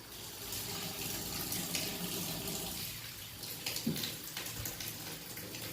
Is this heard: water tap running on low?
yes